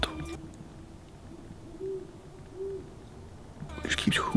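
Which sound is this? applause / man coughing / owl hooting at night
owl hooting at night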